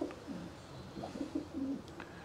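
A racing pigeon, a blue hen, gives soft low coos in short repeated phrases at close range, with faint background chirps and room noise.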